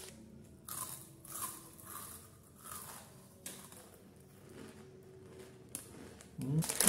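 Crunchy snack food is bitten and chewed up close at an Indonesian mukbang, with sharp crisp crunches repeating irregularly. Speech is heard between the bites.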